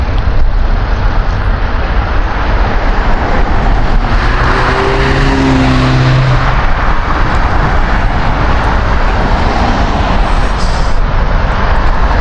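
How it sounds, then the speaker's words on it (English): Heavy road traffic on a roadway after a blizzard, vehicles passing continuously in both directions with a loud, steady rush and one engine swelling as it goes by, heard alone. "So it's heavy traffic here,"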